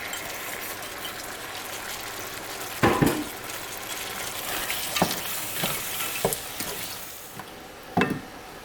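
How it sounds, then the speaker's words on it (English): Frozen peas going into a sizzling pan of chicken curry, a continuous close hiss of frying punctuated by several sharp knocks and scrapes of stirring, with no talking. "So we'll also add our peas, frozen peas."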